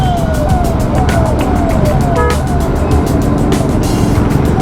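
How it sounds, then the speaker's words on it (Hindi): An ambulance siren passes on a Darjeeling hill road, its loud wailing tone sweeping up and down repeatedly over continuous traffic and engine rumble, staying close and prominent throughout. "ये चला गया एम्बुलेंस"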